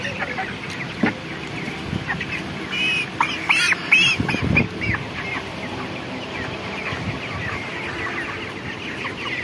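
Young broiler chickens and a rooster on a poultry farm cluck and chatter continuously at moderate distance, with a burst of louder overlapping calls midway.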